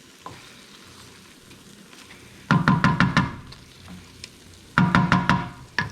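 Tomato sauce ingredients fry in a pan with a constant low sizzle, interrupted by two bursts of rapid spoon knocks and stirring scrapes against the pan, heard up close without talking.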